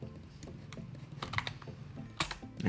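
Soft computer mouse clicks and light desk handling during work in Illustrator, a few scattered sharp ticks over a quiet room, no talking.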